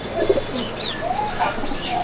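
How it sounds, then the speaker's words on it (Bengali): Murshidabadi high-flying pigeons in a loft, several soft coos and light chirps close by, irregular and overlapping, with no talk. "এটা মুর্শিদাবাদী কবুতর, খুব ভালো পারফরমেন্স করে।"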